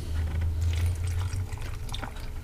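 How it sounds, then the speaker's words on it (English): Water pours steadily from a can into a Cuisinart pressure cooker over pork, a continuous splashing and gurgling stream that stays close and fairly loud throughout. "I'm going to put 2 cans full of water to give us some liquid here"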